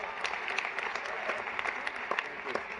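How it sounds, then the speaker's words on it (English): An audience at the Al Smith Dinner, a formal charity gala, claps in steady, full applause that fills the room, with no voice over it. "Can we have a round of applause for Chuck Schumer?"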